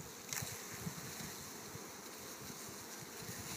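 Honey bees buzz around a hive in early spring in a steady, dense, even drone that stays close and fairly quiet, with no voices over it.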